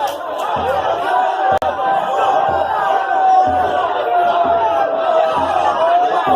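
A crowd gathers near police scuffling with protesters during COVID-19, producing a steady murmur of many voices at middle distance with a sharp slam-like knock partway through.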